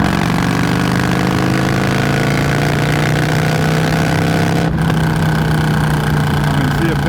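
A motorcycle engine cruises steadily in fifth gear at around 2,800 RPM, a loud continuous drone with a strong low hum and wind noise throughout, briefly dipping for a moment partway through.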